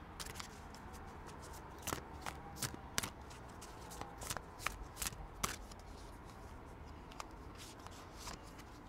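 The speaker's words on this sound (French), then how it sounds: "On va procéder maintenant au tirage de cartes." Oracle cards being shuffled and drawn from the Oracle des saisons deck: a quiet run of crisp, sharp card flicks and snaps, irregular and close, with soft rustling between them and no voices.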